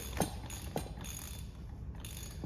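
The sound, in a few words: ratchet loosening a coilover nut on an Audi A4 B5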